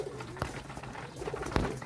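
Hungry pet pigeons coo close by, soft low repeated calls over a busy background of wing flutters and scuffling, with a couple of sharper knocks.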